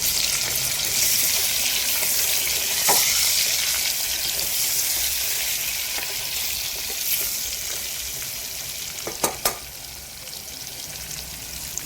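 Jackfruit pieces fry in a pan with a dense, steady crackling sizzle that fills the whole stretch, joined by a few sharp utensil clicks near the end, close and constant with no speech.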